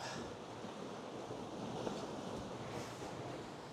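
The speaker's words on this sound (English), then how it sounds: "It's so therapeutic listening to the waves crashing" Waves breaking on a shore during a fishing trip at Gynn, a continuous soft wash of surf with wind noise across the microphone, fairly quiet and with no talk.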